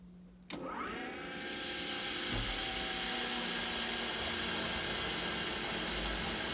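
An irrigation pump engine used for flood-irrigating pasture in Northern California cranks with a sharp start and then settles into a loud, steady, broadband roar that carries on alone.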